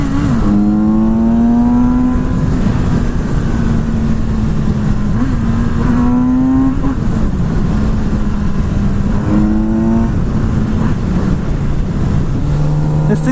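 A Kawasaki Z900RS motorcycle fitted with an Akrapovic exhaust cruises in sixth gear, its engine droning at steady low revs with a few brief rises and dips in pitch, loud and close amid rushing wind.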